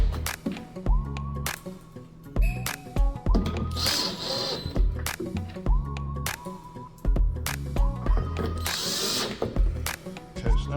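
A power drill drives screws back into the center console of a 2018 Toyota Tundra Limited. It makes repeated short whirring bursts with pitch rising as the motor spins up, mixed with clicks and ratcheting handling noises, close and without speech.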